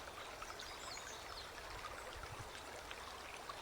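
A river flows steadily in a natural setting, an even, close rushing and trickling of water with faint splashes and no voices.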